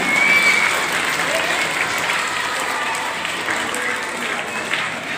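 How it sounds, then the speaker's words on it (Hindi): A crowd claps loudly and without pause to welcome the chief guests at a school's annual sports ceremony, the dense applause easing only slightly toward the end. "जोरदार तालियों के साथ हम आज के मुख्य अतिथियों का स्वागत करने जा रहे हैं।"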